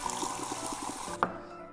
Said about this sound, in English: Now, we're gonna top that up with cold water.